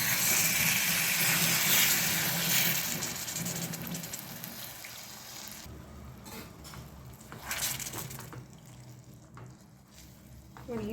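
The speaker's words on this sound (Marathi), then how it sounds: "त्यामध्ये अगदी थोडंसं पाणी घालते." A little water poured into dahi aloo curry in a hot pan, loud hissing sizzle at first that fades to quieter bubbling and stirring clinks.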